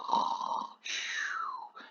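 A person imitates snoring with two short rasping breaths, a nasal rumble followed by a whistling exhale, alone in a quiet room.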